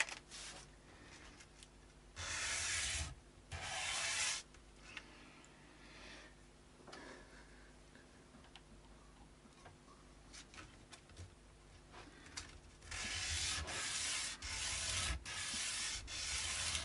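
Light sanding of a wooden part on a Telecaster-style guitar: bursts of dry rubbing strokes, loudest in two clusters near the start and again toward the end, with quieter scratchy handling between, close up and with no talk.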